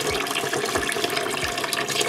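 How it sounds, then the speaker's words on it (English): Filtered water runs steadily over homegrown sprouts being rinsed, a continuous close splashing flow like a tap filling a container, with no voices. "we're rinsing it in filtered water."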